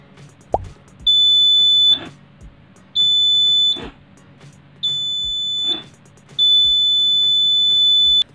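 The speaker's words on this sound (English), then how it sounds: "when any object come close to the circuit, it will automatically turn on the buzzer" A buzzer on an IR proximity sensor circuit built on a PCB with an LM358 op-amp sounds in four loud, steady electronic beeps of about a second each, separated by short gaps, with a click at the start.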